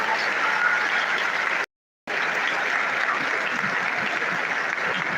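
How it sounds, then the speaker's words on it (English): A lecture audience applauds a speaker with sustained, even clapping that carries on throughout, broken once by a brief moment of silence before it resumes at the same level. "Please a round of applause for him."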